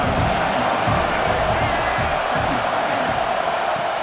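A stadium crowd roars and cheers continuously in an American football video game, a dense, loud sustained wash of many voices with no breaks.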